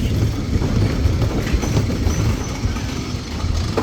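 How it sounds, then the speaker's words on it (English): A roller coaster train on the Nickelodeon Streak ride at Blackpool Pleasure Beach rumbles past nearby, with a steady clattering roar of wheels on track throughout. "here comes the last train on Nick Streak"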